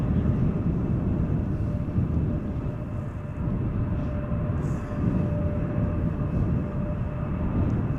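Boeing 787-10 Dreamliner at Schiphol Airport, a steady low engine rumble with a faint tonal whine, continuous and moderately loud from a distance.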